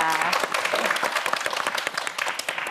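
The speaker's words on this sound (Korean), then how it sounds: "박현진 학생에게도 큰 박수 부탁드립니다." Studio audience at a televised Korean student quiz show applauding a contestant, a dense wash of many hands clapping close and steady through the whole stretch, with a voice briefly audible at the start.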